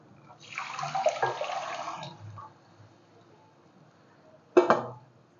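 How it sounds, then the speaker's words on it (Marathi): Water pours steadily into a pot for a couple of seconds, quiets, then a short splash or clatter follows near the end. "याच्यामध्ये आपल्याला पाणी घालायचं"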